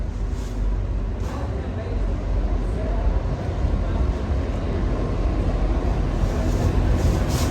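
Loud, close rumble of a local passenger train entering Dewsbury station, with steady low-frequency drone and occasional brief hissing bursts, continuous throughout.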